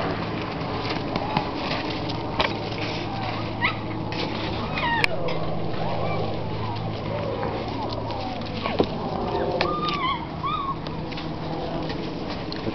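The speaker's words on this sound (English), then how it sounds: "happy puppy. Happy, happy little dog." Puppies play in a yard, giving high whimpers and little yips over the steady scuffle and patter of their movement, while people talk nearby.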